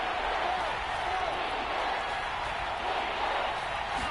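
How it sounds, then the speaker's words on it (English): Steady roar of a stadium crowd inside the Dome during a Rams versus Saints football video game, a dense unbroken wash of noise that stays loud and even throughout. "The crowd here in the Dome making things difficult."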